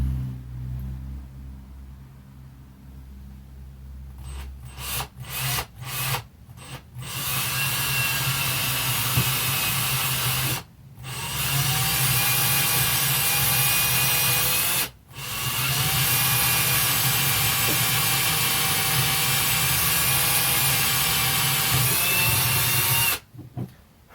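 A high-pitched power drill bores a hole into a cork, whining steadily in bursts, starting with a few short stutters, then long sustained runs broken by brief pauses.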